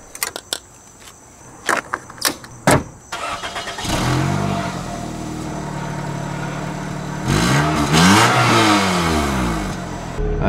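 Car engine cranking and starting after a tank was filled with Presto brake fluid; a few sharp clicks and rattles come first, then the engine catches and settles into a steady running drone, rising briefly as it is revved.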